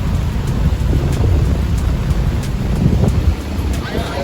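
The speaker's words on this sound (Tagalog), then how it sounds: "Malakas na yung ulan ngayon." Heavy rain pours during an outdoor Nazareno procession in Polangui, Albay, a loud, dense, continuous wash mixed with gusty wind buffeting the microphone, with no talking.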